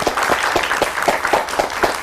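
Studio audience on a morning television show clapping in a tribute, a brief run of applause with distinct rhythmic hand claps near the front.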